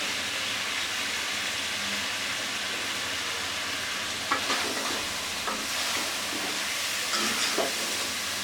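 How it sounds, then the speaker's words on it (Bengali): Cumin seeds tempering in hot oil crackle and sizzle steadily up close, with a few sharper pops and spatters near the end, and no voices. "এই যে আমার জিরা ফোড়ন দিচ্ছি"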